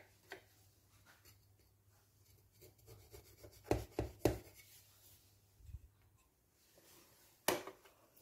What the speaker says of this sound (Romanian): Și continui așa să o tai, să o porționez.